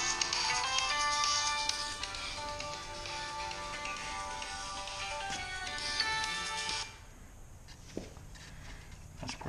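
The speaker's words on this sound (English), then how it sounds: "And of course, my phone would be ringing." A phone ringtone plays a bright, repeating melodic chime for several seconds, then cuts off, leaving quiet room noise and faint scuffs.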